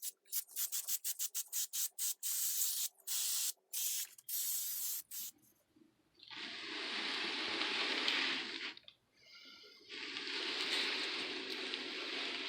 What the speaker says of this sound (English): I'm going to go ahead and use some high gloss clear coats and make this nice and shiny